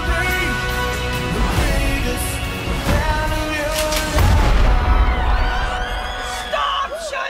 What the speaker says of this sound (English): Stop shooting your sister!